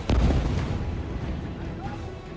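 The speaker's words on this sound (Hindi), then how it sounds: "मिसाइल धमाके पहले की तरह हो रहे थे।" Missile explosion in war footage from Gaza: a heavy boom at the start followed by a long rumbling decay, loud and close, with no voices.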